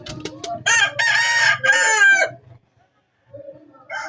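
A Claret gamecock crows loudly and close by in one long, full cock-a-doodle-doo, followed by softer clucking and low chicken sounds from other birds nearby.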